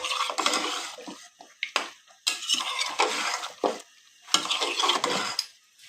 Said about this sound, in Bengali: মাংসটা এখানে ভালো করে কষতেছে, কেমন করে জাল হচ্ছে দেখেন